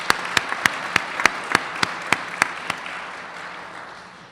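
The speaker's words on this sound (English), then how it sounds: "So let's give them a round of applause." Audience applause at a Hall of Fame induction ceremony: a broad wash of clapping punctuated by a few sharp, evenly spaced hand claps that stand out, gradually fading toward the end.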